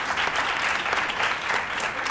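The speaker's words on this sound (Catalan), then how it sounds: "Un aplaudiment per elles." TV studio audience applauding two contestants on a letter quiz show, an even, continuous burst of clapping at moderate loudness with no voices over it.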